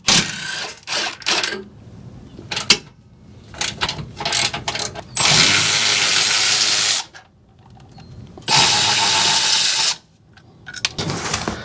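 A power tool spins 12 mm bolts out of the bump stop bracket on a 2022 Toyota Tundra, sounding as loud close bursts of ratcheting whir broken by pauses, with two longer sustained runs in the middle.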